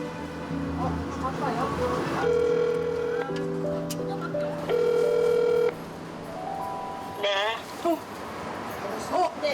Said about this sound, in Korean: 제작진은 매번 남자가 전화를 하는 상대와 통화를 시도해보기로 했습니다